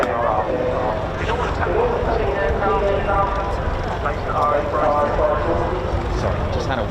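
An Airbus Voyager KC Mark III tanker aircraft flies at an air show, its jet engines a steady, broad roar that holds without letup, with a faint crowd murmur around it.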